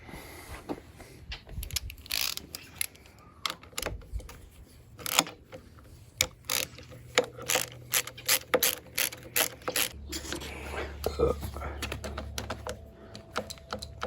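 A ratchet loosens a bolt on an ASV lever being installed on a Suzuki LTR450 ATV, with rapid bursts of close clicking from the pawl, starting and stopping, and no talk.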